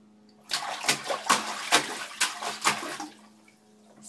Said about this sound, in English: Splash, splash, splash.